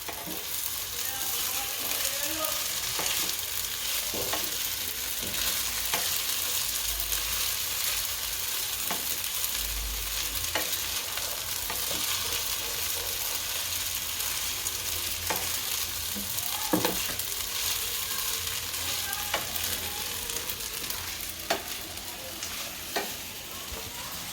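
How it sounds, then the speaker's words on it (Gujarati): Sabudana is stirred into a frying peanut mixture in a pan, with a steady close sizzle and a spoon scraping and tapping the pan at intervals, alone with no talk. "હવે સાબુદાણા નાખશું અને ભેળવી નાખશું હારું"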